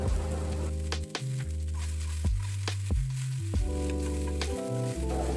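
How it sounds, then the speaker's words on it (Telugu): Okra pieces fry in a pan on a low flame, crackling steadily and close at hand, while a strong tonal hum runs underneath; no voices. "లో ఫ్లేమ్లో పెట్టుకొని బెండకాయలను బాగా వేయించుకోవాలి."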